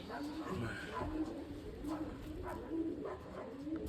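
Soft, low cooing of a white pigeon repeats in short phrases at close range, with a steady background hum and faint voices nearby.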